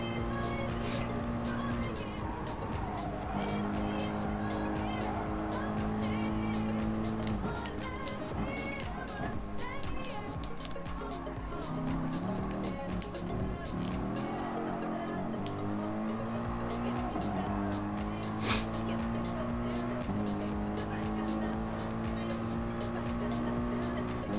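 Race cars in the video game Gran Turismo Sport, a continuous engine drone with shifting revs and occasional tire squeal during a daily online race, while someone talks over it.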